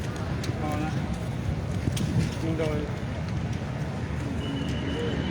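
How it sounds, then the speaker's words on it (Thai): Strong wind buffets the microphone in a deep, continuous rumble outdoors at a protest site, while someone speaks over it. "ลมเริ่มพัดแรงแล้วครับ"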